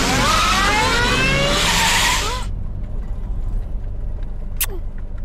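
Tires squeal and skid loudly in a movie car chase, a harsh screeching burst with engine roar lasting about two seconds before cutting to a quieter rumble, followed by a brief sharp whistle-like swoop.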